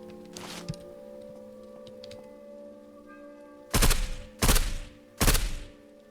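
Three loud bursts of gunfire ring out in the zombie survival game SurrounDead, spaced about a second apart over a low droning background hum, with a softer shot earlier.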